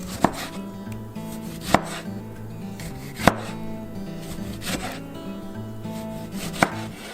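A sharp knife cuts through tomato on a cutting board for Costa Rican–style pico de gallo, with four distinct chops spaced about a second and a half apart over a soft, continuous background.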